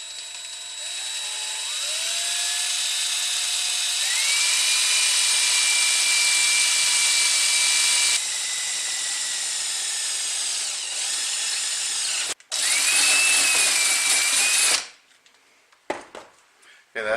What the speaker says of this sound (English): I'm going to try and hold the drill level